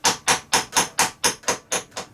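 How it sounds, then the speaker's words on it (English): Nine sharp metallic hammer strikes on an old socket driving a seal into a gearbox tail piece, steady rhythm, each a bright clang with a short decay, close and clear with no talking. "we're just going to take an old socket and we're just going to hammer it in"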